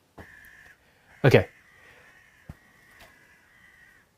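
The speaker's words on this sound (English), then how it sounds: "Hush, crows." Crows caw outdoors, one harsh call standing out loudly among fainter, scattered caws, while someone briefly speaks nearby.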